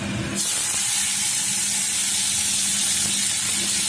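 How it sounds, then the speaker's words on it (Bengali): Bitter gourd slices hit hot oil in a home kitchen pan with a sudden burst, then settle into a loud, continuous sizzling hiss. "আর উচ্ছেটা ভেজে নেব"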